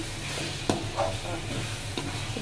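Capsicum egg gravy is stirred in a hot pan, a spatula scraping and knocking against the metal in a few distinct strokes over a steady sizzle and hiss, close by and with no talk.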